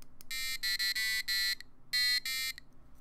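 Buzzer alarm from a homemade WiFi alarm clock prototype: loud, harsh electronic buzzes in short bursts, a rapid run of four and then two longer ones, close up with no voices.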